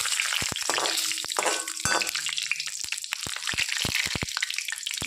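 Bay leaves crackle and sizzle in hot oil for a goat curry, a steady close frying hiss broken by sharp popping spatters, with no talking.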